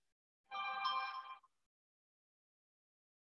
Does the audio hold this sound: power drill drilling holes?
no